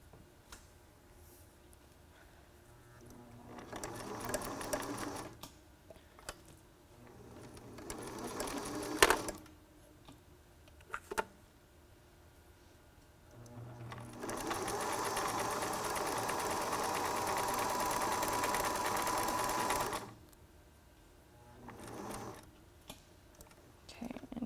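A sewing machine stitches a T-shirt face mask in three runs, with a long steady whir in the middle and two shorter bursts before it. Quiet handling noises fill the gaps.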